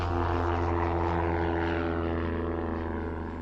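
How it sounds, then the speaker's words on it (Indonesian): An amphibious propeller plane drones overhead in flight, a steady buzzing engine hum that stays even and fades slightly toward the end, with no talk. "berangkatlah Bob, Charles, dan Stephen dengan pesawat amfibi tadi"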